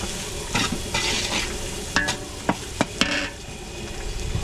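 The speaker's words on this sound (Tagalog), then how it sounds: "papupulayin ko lang yung bawang sibuyas" Garlic and onion sauté in a large pan for outdoor event cooking in San Carlos, Pangasinan: a steady frying sizzle broken by several sharp clanks of a spatula stirring, with no talking.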